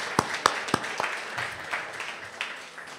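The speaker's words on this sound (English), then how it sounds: "another big round of applause to all of our women leaders today" Audience applause at a women's leadership awards ceremony, a few sharp, close claps at the start followed by thinner, scattered clapping from the room that tapers off.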